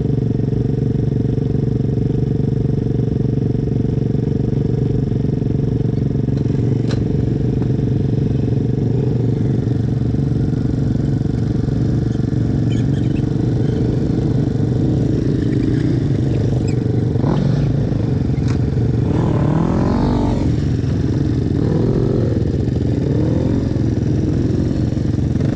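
Chinese Yamaha-style motorcycle being ridden, a continuous loud engine drone with shifting revs, occasional clatter and scraping, and a rising rev toward the end.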